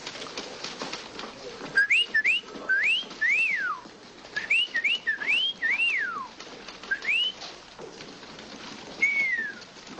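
A person whistles in imitation of a bird's call: short rising and falling whistled phrases in irregular bursts, fairly close and clear, with brief pauses between groups and no talking.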